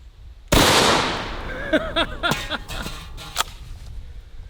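A 12-gauge shotgun fires a slug at a small helium tank: one sharp, loud blast that rings and decays, followed by scattered pops and excited shouting voices.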